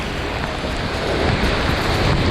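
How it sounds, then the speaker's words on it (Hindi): Steady, loud rushing roar of a waterfall deep in the Abujhmarh forest, spray-laden and close, with dense broadband water noise filling the whole moment and no voices over it. "इस झरने की वजह से है।"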